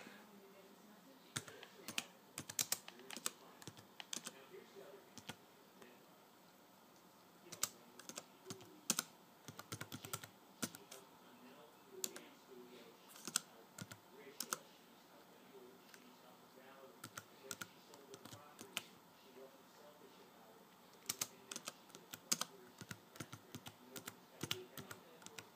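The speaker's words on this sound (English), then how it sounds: "I'm going to type my name" Irregular bursts of clicky keystrokes on a computer keyboard enter a name during Windows XP setup, close and fairly quiet, with short pauses between flurries and no speech.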